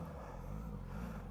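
A Suzuki GSX-S1000 motorcycle engine runs close by with a steady, deep rumble as the throttle is gently worked, the tone holding fairly even without sharp revs.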